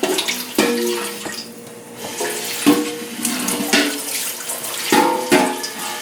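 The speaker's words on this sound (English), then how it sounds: "I'm going to fill this roasting pan up" Tap water pours into a roasting pan being filled to boil king crab legs, a loud, splashing stream whose pitch shifts as the pan fills, broken by a few sharp knocks and clunks.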